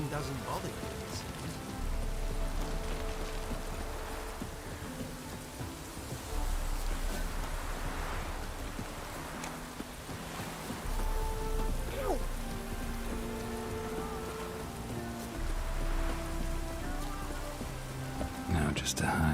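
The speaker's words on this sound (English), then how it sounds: "Rain doesn't bother you, it seems." A steady patter of rain in the video game Witcher 3 fills the scene, with soft sustained music tones and a voice speaking over it.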